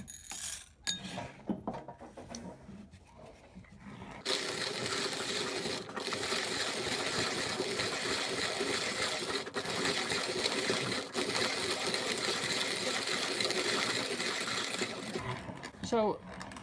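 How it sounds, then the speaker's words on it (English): A 1930s PeDe hand-cranked coffee grinder crushes beans under steady turns of the handle, a dense, continuous gritty rasp with faint clinks that starts abruptly and runs for about ten seconds before stopping. "So just over 30 turns of the handle, and another nice sedate grinder."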